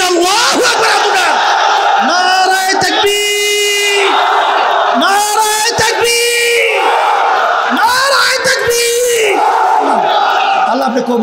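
A large crowd at an Islamic religious gathering answers a takbir call by chanting Allahu Akbar, loud massed voices rising and falling in repeated swells over about eleven seconds.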